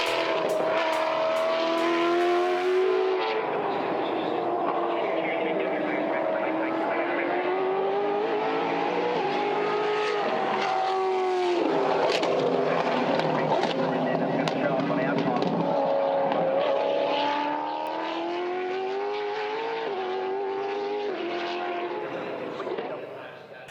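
A Brabham BT62 race car powers through track corners, its loud engine note rising and falling continuously as it brakes and accelerates, with a voice talking over it.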